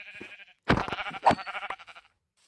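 Sheep bleating in the video game Minecraft, a few short wavering bleats close by after a brief tone, then fading to quiet.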